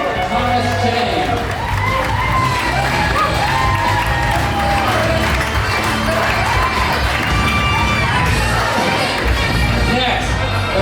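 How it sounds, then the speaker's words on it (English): A wedding reception crowd cheers, whoops and shouts as the wedding party is introduced, a loud, sustained wash of voices lasting the whole stretch. "Give them a big round of applause."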